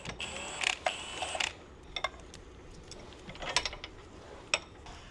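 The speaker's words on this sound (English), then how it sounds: "Put the 17 on there, and then hold the back side with the wrench." A 17 mm wrench works a control arm bolt on a G35/G37, producing quiet clicking ratchet and metal-on-metal tapping sounds in irregular bursts at close range.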